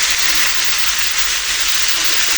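Bitter gourd and potato tossed into a hot pan with ground spice paste and turmeric give a loud, steady, hissing sizzle that holds without a break and has no voices over it.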